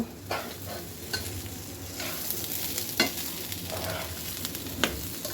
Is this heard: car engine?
no